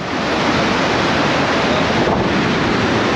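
Water rushes through a dam's diversion channel below a 208-metre drop, making a loud, continuous, close roar that fills the whole stretch with no voices.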